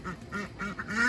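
A duck on a small hobby farm quacks four times in quick, evenly spaced succession, close and fairly clear with no talking.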